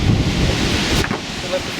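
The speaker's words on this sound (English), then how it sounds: "yeah, it's windy. It's probably 20 knots or something" Strong wind of about 20 knots buffets the microphone at an airfield with a low roaring rumble, continuous and close for a couple of seconds.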